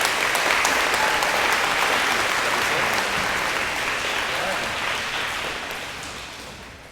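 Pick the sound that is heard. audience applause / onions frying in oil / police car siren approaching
audience applause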